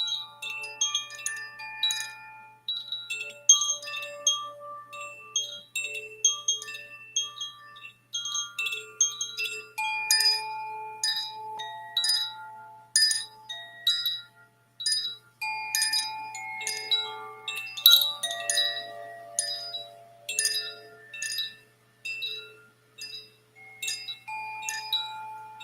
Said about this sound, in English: Can you hear the chimes?